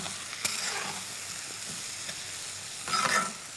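A dish cooks in a pan with lemon juice and sugar, sizzling steadily at moderate volume with occasional stirring scrapes and a brief louder burst near the end.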